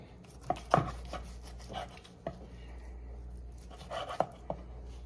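A knife slicing through tender cooked ribs between the bones, with close, soft chopping thuds and knocks of the blade meeting the board in a few spaced strikes, and no one speaking.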